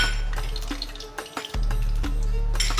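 Whole spices for garam masala go into hot oil in a pot, giving a soft crackle with light clinks against the metal. The sound is faint and close, with no talk over it.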